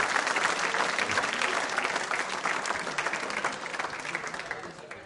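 Sustained applause from a school quiz show audience, steady dense clapping that stays loud throughout and tapers slightly near the end, with no clear voice over it.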